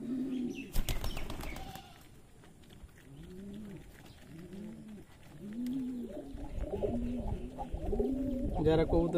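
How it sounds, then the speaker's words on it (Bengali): A tagged racing pigeon coos repeatedly in soft rhythmic bursts near at hand, with a brief flurry of wing flaps at the start and again near the end, and a voice speaks faintly. "এই কবুতরটাও হাতে ডাকলেই উড়ে আসে।"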